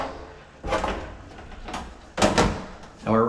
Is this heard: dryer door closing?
yes